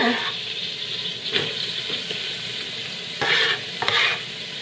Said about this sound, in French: Mon beurre est fondu, mon huile est chaude, donc je vais mettre tout de suite les oignons.